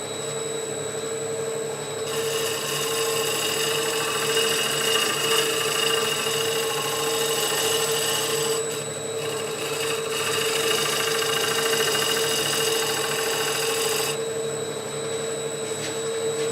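Wood lathe turning a bowl, with a tool shear scraping the spinning wood: a steady motor hum runs throughout, and a brighter hiss of cutting comes and goes in two long stretches.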